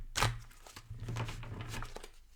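Quick papery riffling and soft slaps of tarot cards being shuffled, a brief close burst with a low hum underneath.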